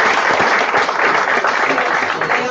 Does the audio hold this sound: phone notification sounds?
no